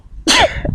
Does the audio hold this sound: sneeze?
yes